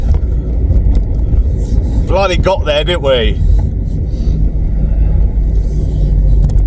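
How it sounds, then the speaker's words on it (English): Revived abandoned Volkswagen Vento engine idling steadily with a constant low rumble, running smoothly throughout while someone speaks briefly over it. "Engine sounds so good."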